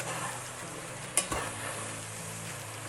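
Vegetable dum biryani mixture stirred in a pot, a soft continuous scraping and sizzling with a couple of brief clinks of the spoon against the metal, steady and close.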